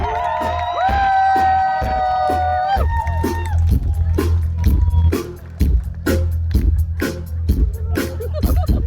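An audience at a blues concert breaks into applause for the guitarist after the band's last sustained chord, with loud scattered clapping and a crowd murmur filling the rest.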